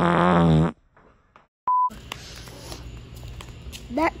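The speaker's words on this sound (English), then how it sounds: "I'm gonna fart." A loud, low, buzzing fart lasts under a second at a beach, followed by near silence, a short electronic beep, then outdoor wind and background noise.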